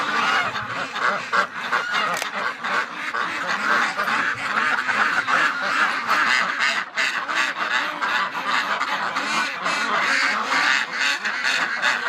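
A dense flock of backyard ducks quacks continuously and loudly in winter, overlapping calls mixed with honking, close by with no pauses.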